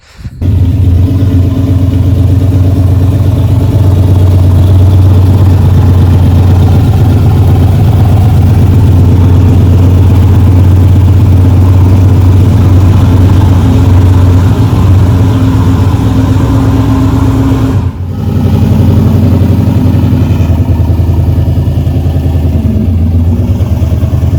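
A turbocharged LS V8 in a Chevrolet S10 drag truck idles steadily and loudly up close, a deep rumbling drone that holds for the whole stretch apart from one brief dip near the end, with no talking.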